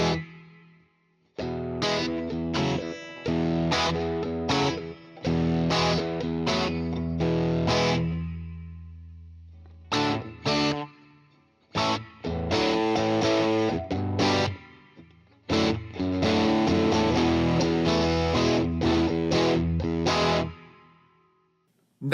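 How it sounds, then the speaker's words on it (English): An electric guitar plays through a large plate reverb on a Fender Tone Master Pro, strummed chords and single notes with long shimmering tails. The phrases are separated by short pauses, loud and close, with no talking. "Now let me turn on the large plate reverb,"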